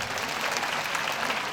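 Audience applause at a stage show, a dense, steady patter of many hands clapping together, moderately faint and continuous with no voices over it.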